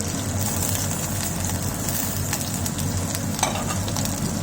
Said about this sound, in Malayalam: നമ്മൾ ഈ അരിഞ്ഞ് വെച്ചിരിക്കുന്ന ചെറിയുള്ളി ആദ്യം ഇടുവാണ്.